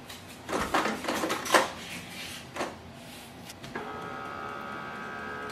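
A Canon Pixma G4770 inkjet printer scanning a page, with several mechanical clicks and clunks followed by a steady whirring motor hum, close and moderately loud, no talking.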